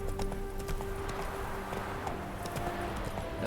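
The horse Roach gallops in The Witcher 3, its hooves clip-clopping in a fast, steady rhythm throughout with a faint whinny, loud and close against a game music bed.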